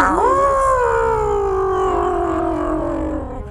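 Cartoon sea sharks howl in one long, loud, wavering wail that rises quickly and then slowly falls away over a few seconds, a voice imitating an animal howl with no other sound around it.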